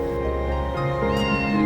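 A tiny kitten meows near a gorilla in a close, clear cry that rises and stretches over a second and a half, with a second tonal call at the end and no speech.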